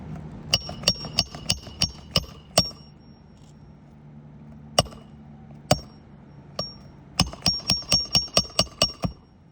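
A hammer strikes a nail into a roof shingle in quick bursts of sharp metallic blows, a fast run of about eight, a few isolated hits, then another rapid run, loud and close.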